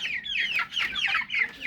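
Broiler chickens in a farm pen cluck and chatter in quick, overlapping bursts, close by and fairly loud, without anyone talking.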